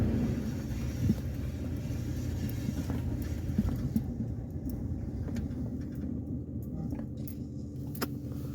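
A Chevrolet Cobalt with a brake fault creeping forward slowly on a test drive, heard from inside as a steady low engine and road rumble with faint ticks and rattles.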